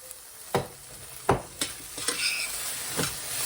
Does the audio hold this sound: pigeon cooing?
no